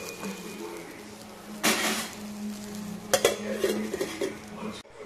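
Poha being stirred in a pan with salt, then covered with a lid, giving scraping spoon-on-metal sounds, a clattering burst, and a sharp clank, with a faint sizzle underneath throughout.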